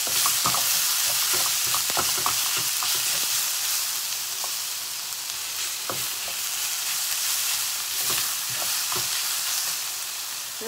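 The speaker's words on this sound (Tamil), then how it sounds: "அப்போ நாங்கள் இந்த உள்ளி இஞ்சி விழுத போட்டு கொஞ்சம் நேரம் வதக்குவோம்." Garlic-ginger paste sautéing with onions in a pan for paneer curry, a steady close sizzle with brief scraping clicks of a spoon stirring now and then.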